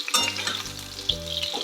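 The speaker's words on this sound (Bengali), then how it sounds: "এরকমভাবে ফুলকপিগুলোকে ফ্রাই করে নেবেন, ভেজে নেবেন" Cauliflower florets sizzle and crackle in hot oil in a kadai, a dense steady fry with a low hum underneath and no talk.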